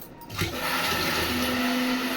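A mixer grinder whirs steadily as it blends masala with water, starting up after a brief quiet moment and then running on at an even, close, moderately loud pitch with a rising tonal whine toward the end.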